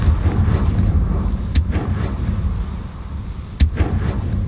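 Confringo explosive spell cast in Hogwarts Legacy, two sharp, loud bursts a couple of seconds apart, each a brief crackling blast over a low rumbling ambience.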